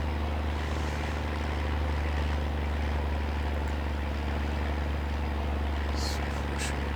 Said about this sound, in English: Hopefully we've got enough oomph in this tractor to get up this little incline here.